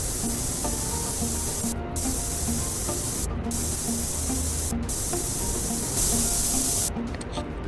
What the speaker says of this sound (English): So I'm going to go ahead and actually spray this part.